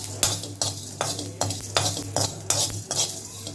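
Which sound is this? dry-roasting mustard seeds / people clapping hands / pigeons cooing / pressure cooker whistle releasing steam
dry-roasting mustard seeds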